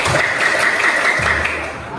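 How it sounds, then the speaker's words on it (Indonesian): A short burst of clapping in a classroom lesson, a few seconds of hands clapping together nearby that fade toward the end. "Tepuk tangan untuk kita semua."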